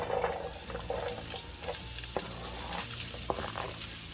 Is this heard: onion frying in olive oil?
yes